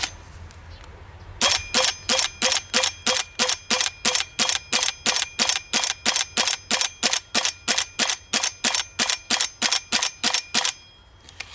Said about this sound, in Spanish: Vamos a disparar ahora con el siguiente cargador algo más rápido.